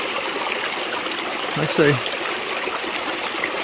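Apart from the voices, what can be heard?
creek water flowing on Ozark Highlands Trail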